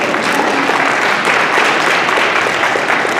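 Audience applause after a speaker at a community conversation on modern slavery, a steady, loud wash of many hands clapping throughout with no talk.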